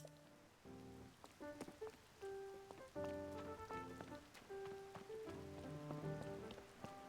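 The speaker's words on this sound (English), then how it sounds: "Rain? Now?" Steady rain patters down in Zelda: Tears of the Kingdom, a soft continuous hiss of drops running beneath gentle melodic game music throughout.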